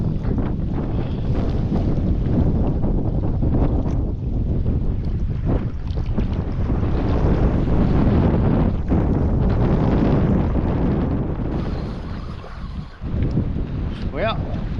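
Steady, loud wind rushes and buffets the microphone on open water as a canoe with a wind sail drifts in the Boundary Waters wilderness, a continuous roar with slight gusts.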